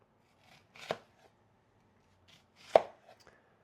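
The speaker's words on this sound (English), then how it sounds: "Take your first half of the onion, like this, and cut it very thin and little across" A knife slicing an onion very thinly on a board, heard as two short, separated chopping bursts, close and fairly quiet, with silence between them.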